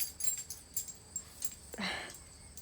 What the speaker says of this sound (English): My dog's collar.